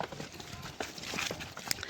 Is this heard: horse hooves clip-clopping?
yes